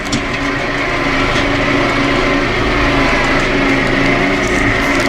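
Farm tractor engine running steadily and loud close by, a continuous broadband rumble with a high-pitched whine and no talk over it.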